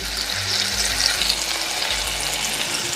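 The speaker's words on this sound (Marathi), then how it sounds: "हा टोमॅटो अगदी आपल्याला तेलात तेल सुटेपर्यंत भाजून घ्यायचा आहे" Tomato fries in oil with a steady, fairly loud hiss and soft bubbling close by. A low rumble runs beneath, and there is no talk.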